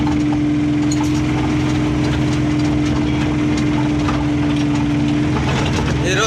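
A cart's engine carrying jasmine plants idles steadily nearby with a constant droning hum and low throb, loud and unbroken throughout.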